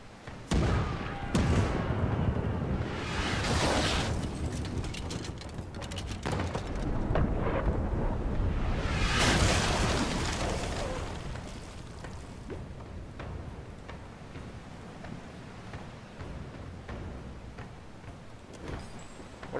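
Ship cannons fire during a naval battle in the Pillars of Eternity 2: Deadfire video game, giving heavy booming blasts and rumbling explosions with long, roaring decays that build and fade over a sustained barrage.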